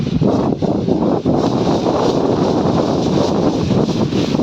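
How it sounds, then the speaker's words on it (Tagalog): Strong hot wind buffeting the microphone on a street near a bus terminal, a loud continuous roar with gusty surges throughout. "lakas ng hangin."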